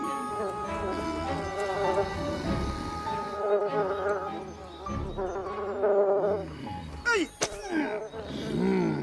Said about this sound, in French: Je suis sûr que c'est une guêpe tartare.